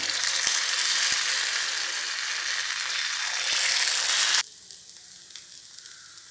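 Paniyaram batter hits a hot, well-heated pan and sets off a loud, steady sizzle with a few light clicks. The sizzle drops sharply to a quieter hiss for the last couple of seconds.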